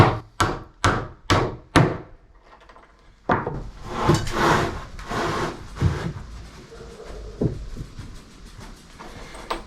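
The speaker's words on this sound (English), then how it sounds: "So you can see I'm just basically nailing it fairly quick." Nails are driven into loft boards on a timber frame shed: five sharp, evenly spaced hammer blows come first, then rougher wooden thuds, scraping and shuffling of boards, close and loud.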